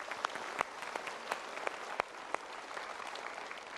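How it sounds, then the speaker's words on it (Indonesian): A studio audience on a motivational talk show claps briefly, with scattered sharp hand claps over a soft, fairly quiet background. "kita berikan tepuk tangan"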